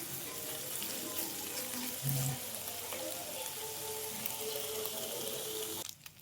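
Steady sizzling and frying hiss from a pan of vegetables for chayote with ground meat, continuous and moderately quiet, with a few faint clinks and a brief thump near the end.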